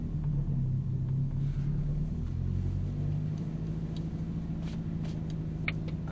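A 2002-2004 Nissan Frontier pickup idles and drives with a low, steady engine rumble, muffled and moderate, with faint clicks and rattles over it.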